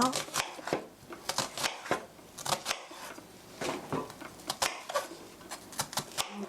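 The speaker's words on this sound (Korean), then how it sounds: "다지다가 이렇게 넣고 또 다져 주시고" Onion being minced with a knife on a cutting board, sharp irregular chops in quick bursts and pauses, close and fairly quiet, with a voice talking in between.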